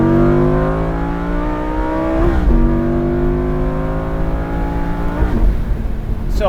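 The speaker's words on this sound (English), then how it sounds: "So we're gonna do a downshift." Lamborghini Gallardo Spyder engine revs loudly through a downshift, a steady harmonic drone that jumps up sharply twice as gears change, close and alone without talk.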